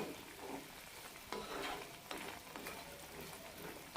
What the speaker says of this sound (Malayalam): ഇടയ്ക്കൊന്ന് ഇളക്കി കൊടുക്കണം